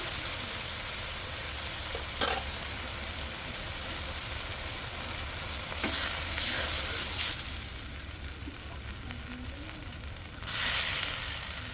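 A cauliflower and potato curry frying in a pan gives a steady close sizzle, rising into louder hissing bursts as broth is poured in, with a few scrapes and no talk.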